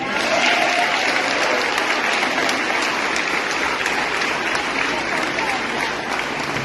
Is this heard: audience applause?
yes